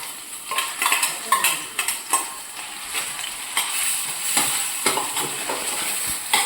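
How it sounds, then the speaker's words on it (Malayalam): Metal spoon stirring and tossing sardine masala with onion, spices and coconut in a pan, a soft sizzle underneath irregular scraping clinks, close and continuous without speech. "നമ്മൾ അതിനൊരു പാന് വെക്കുക. അപ്പം നമ്മൾ ഇതൊന്ന് ചിക്കി എടുക്കാനുള്ള പരിപാടിയാണ്."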